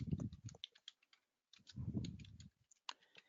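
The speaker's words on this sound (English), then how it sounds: "On the app source, if you type Business Central" A computer keyboard is typed on in two quick bursts of close, crisp key clicks, with a short pause between them and a few scattered taps at the end.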